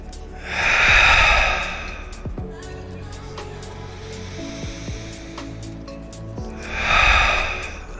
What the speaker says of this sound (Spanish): esta inhalación de la respiración de la ola de mar